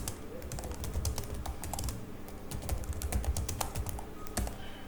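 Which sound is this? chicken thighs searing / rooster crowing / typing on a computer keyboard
typing on a computer keyboard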